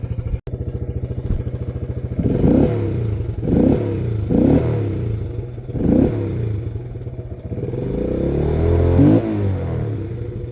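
A Yamaha Raptor 80 ATV with flat tires idling and then revving repeatedly while being ridden, several rhythmic throttle surges over a loud, close, chugging small engine.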